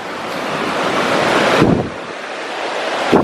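Rushing water of a river beside a rocky, slippery trail to Curug Pariuk waterfall in Puncak, Bogor, a loud steady roar mixed with wind buffeting the microphone and two brief louder surges.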